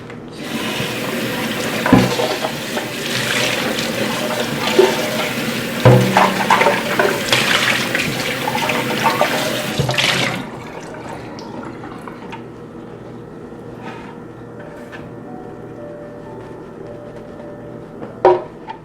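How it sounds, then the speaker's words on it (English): Water runs from a sink tap, rinsing out a blender pitcher used for making almond milk, a loud steady rush that stops abruptly partway through, leaving a quiet room with a few faint clinks. "So I will rinse up this pitcher here, the blender, in the sink."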